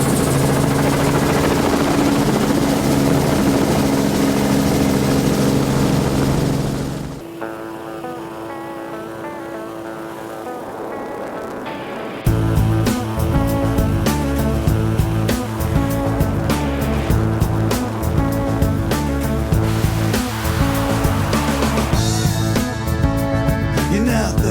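Steady, loud helicopter rotor thudding with a rough, dense drone at the Baja 1000 off-road race, dropping to a quieter stretch before the heavy pulsing noise returns and continues.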